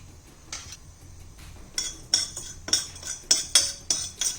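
Chana dal and urad dal frying in a little oil, a metal spoon scraping and clinking against the pan in a steady rhythm of sharp, close taps that grow more frequent toward the end, with no talking.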